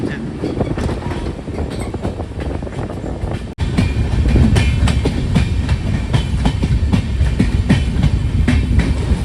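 A passenger train on the Mangaluru to Yeshwantpur route rolls along steadily, loud close rumble and clickety-clack of wheels on rails, growing louder partway through.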